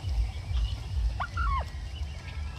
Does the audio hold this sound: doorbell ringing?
no